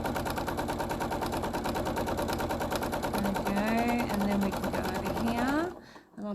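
A sewing machine stitches a quilt in a steady, rapid mechanical chatter, close and continuous, while someone talks over it before the machine stops near the end.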